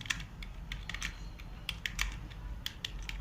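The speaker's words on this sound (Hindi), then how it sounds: "जो कि थोड़ा प्रो हो गया है वो किस तरह से टाइप करेगा" Fast touch typing on a computer keyboard sets off a rapid, uneven run of close, clicky keystrokes over steady low room hum, with no voice.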